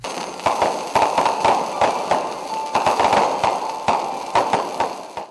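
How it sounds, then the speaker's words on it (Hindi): A fireworks display closes a university ceremony, with rapid crackling bursts and sharp pops going off in irregular clusters, loud and dense against a noisy outdoor background. "तकरीब के आखिर में आतिशबाजी का खूबसूरत मुजाहरा भी पेश किया गया।"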